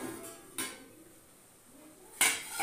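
Dirty cooking pots and utensils handled in a home kitchen, two sharp metallic clanks about a second and a half apart over faint background hiss, fairly quiet and close.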